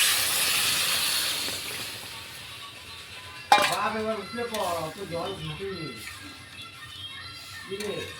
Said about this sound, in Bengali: আমার আলু কষা হয়ে গেছে, এবার জল ঢেলে দিলাম।